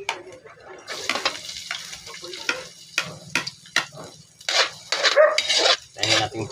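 Garlic sizzling and frying in oil in a pan for liver adobo, with intermittent bursts of crackling sizzle and stirring, fairly close, and a few quieter gaps.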